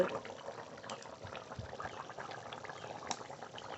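A pot of desi chicken curry simmering, a faint continuous bubbling and soft popping of liquid heard alone at low level.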